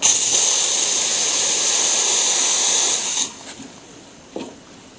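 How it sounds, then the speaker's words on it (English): A loud, steady hiss from an espresso machine's steam wand runs for about three seconds, then cuts off, leaving quieter background noise with a brief sputter near the end. "this machine has a very powerful steam"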